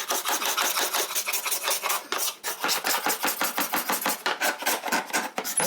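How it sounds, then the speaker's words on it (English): A hand scraper rasps along the corners of a hardwood floor during sanding and refinishing, a steady run of rapid, loud scraping strokes with only a brief pause partway through. "So we're going to do that manually by hand with the hand scraper, all the corners where we couldn't get into."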